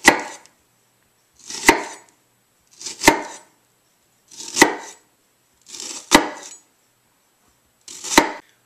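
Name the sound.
knife making vertical cuts through an onion on a board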